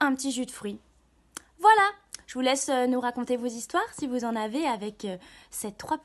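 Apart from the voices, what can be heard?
No everyday noise stands out behind the speech.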